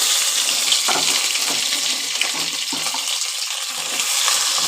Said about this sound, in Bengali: প্রথমে আলু আর ডাটাগুলো দিয়ে দিচ্ছি